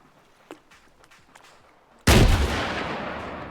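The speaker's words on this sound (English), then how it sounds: "Someone just shoot a fucking RPG at us?" An RPG fired at players in Arma 3, a single sudden loud blast that decays over about a second and a half, following a few faint footsteps and clicks.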